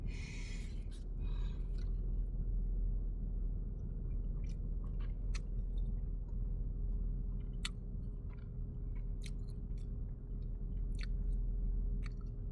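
Someone chews a Buc-ees breakfast burrito with potatoes, salsa and a thick tortilla in moist, soft bites close to the mic. A constant low rumble sits underneath, and brief clicks and taps break through it.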